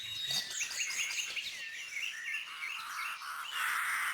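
Jackdaws, black-headed crows with grey hoods and pale eyes, give a run of sharp, high chirping calls that carry on steadily and close by, with no voices.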